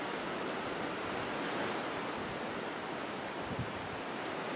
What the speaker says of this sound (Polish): A tutaj mamy fale.